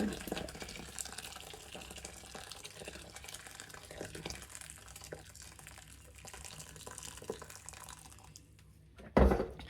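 Tap water runs steadily into a kettle at home, a continuous close splashing stream that stops abruptly near the end with a brief knock.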